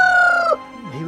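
A rooster kept apart from the hens crows once, a loud close call ending in a short drawn-out tail, followed by a low fowl cluck.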